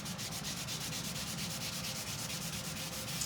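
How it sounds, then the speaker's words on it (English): Steady rhythmic rubbing as wax is buffed by hand across a wooden coffee shop sign, a continuous close scrubbing stroke repeating evenly throughout with no talking. "so I'm buffing it down. I don't want too much wax or my paste won't stick to it."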